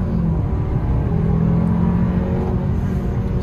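A 2023 Kia K5 fitted with a snorkel ram-air intake accelerates steadily, its engine drone loud and continuous throughout with a low rumble and rising whir, no talking.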